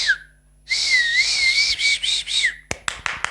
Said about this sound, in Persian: الان یه بار دیگه سوت بزنیم ببینیم صدا این سوتم